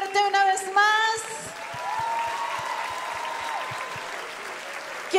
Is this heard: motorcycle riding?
no